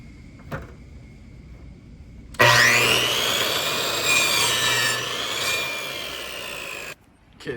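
A saw cuts through pieces of wood in a home workshop, one continuous stretch of brisk, rasping strokes close by, following a brief knock and quiet, then stopping abruptly.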